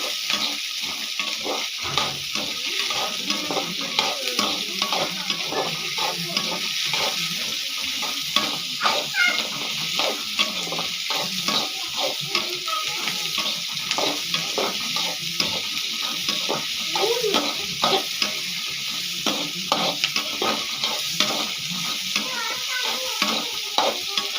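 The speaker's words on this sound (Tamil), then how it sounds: "வெங்காயம் கொஞ்சம் வதங்கட்டும்." Onions sautéing in a pan for chicken gravy, a constant crackling sizzle with frequent brisk spatula strokes scraping the pan in a steady rhythm, heard up close without talk.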